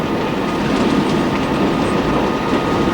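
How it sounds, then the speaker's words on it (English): A freight train rolls along the rails, heard as a loud, continuous rumble and rattle of wheels and cars with no pauses and no one speaking. "We've already come by Summit, and we're just handling this train."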